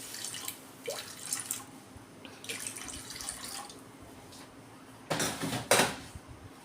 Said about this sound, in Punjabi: ਥੋੜਾ ਜਿਹਾ ਆਪਾਂ ਪਾਣੀ ਪਾਵਾਂਗੇ ਪਹਿਲਾਂ